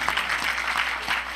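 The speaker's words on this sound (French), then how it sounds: "Est-ce qu'on peut applaudir pour Jésus?" A church congregation applauds, a dense, steady wash of many hands clapping at close range with no break across the moment.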